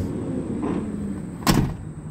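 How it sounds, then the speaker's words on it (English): A truck door being opened and shut during a pre-trip inspection gives a single sharp latch-and-slam thump near the end, close and fairly loud, following a low vehicle hum and faint rustling. "My door opens and closes correctly."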